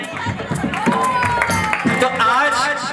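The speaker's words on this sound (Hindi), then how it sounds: "जरा तालियां हो जाए आपकी" Audience clapping and cheering for the bride's parents at a sangeet, a dense burst of close applause mixed with crowd chatter and music.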